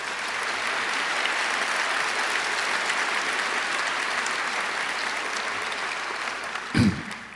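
A debate audience applauds during a 2003 debate on war: a steady, even wash of many hands clapping that fills the whole stretch, with a brief louder bump just before it ends.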